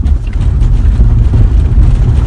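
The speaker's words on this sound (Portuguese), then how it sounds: "Aí tem um barulho de acabamento clássico, né, da parte traseira do carro" A used Suzuki Grand Vitara drives over cobblestone paving, a loud, constant low rumble of tyres and cabin noise with light rattling from the rear trim mixed into the din.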